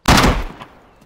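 A single loud gunshot from a weapon in the video game DayZ, a sharp close crack with a short decaying tail and a faint second report trailing off.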